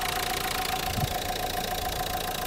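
A car engine runs at a steady idle with the hood open, a constant close-up hum and rumble with a slight knock, no talking.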